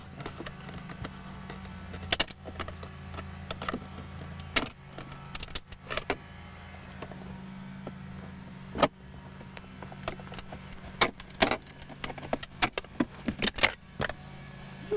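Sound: prying plastic console tabs with screwdriver

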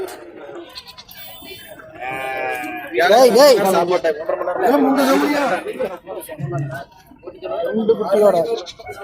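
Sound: goats bleating at goat market

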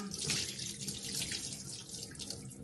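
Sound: tap water running while washing rice

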